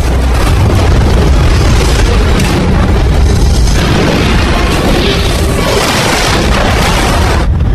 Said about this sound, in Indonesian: Ledakan besar itu lalu menghancurkan pangkalan yang tak menyisakan apa-apa